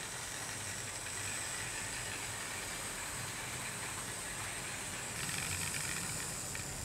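A Hornby 6100 class model locomotive runs along its track with a steady, faint whirring hiss and rumble that continues without a break.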